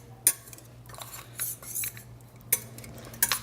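A metal utensil scrapes and clinks against a pan while ingredients for lasagna are stirred in, with a few sharp knocks and softer scraping strokes in between, close and moderately quiet.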